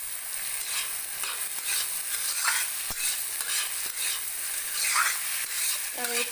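Salted squash pieces fry in a pan while a utensil stirs them, giving repeated scraping strokes over a steady, close sizzle.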